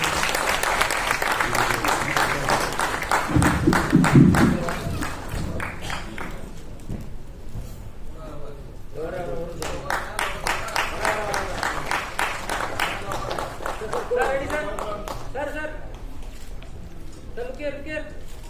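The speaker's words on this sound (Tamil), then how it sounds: "உங்கள் முன் பெரும் கரகோஷங்களுடன் வரவேற்கிறோம்" A crowd applauds at a movie title launch event to welcome the film's hero, with sustained clapping throughout and a voice talking over it.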